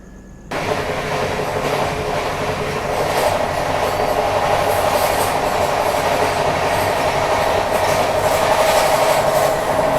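Interior of the Pushpak Express running steadily at high speed on the line out of Bhopal: a continuous loud rumble and rattle of the carriage with faint wheel clatter throughout, starting abruptly after a brief silence.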